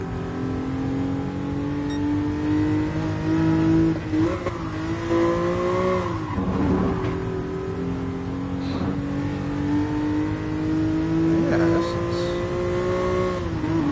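A racing car in GT Sport with a straight, unmuffled exhaust drones and revs steadily, its pitch rising and falling through gear changes, loud and close throughout.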